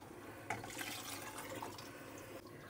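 Two cups of water are poured into a cooking pot while making a sea bass fish kulambu, a faint, splashy watery rush heard close and alone over a low background.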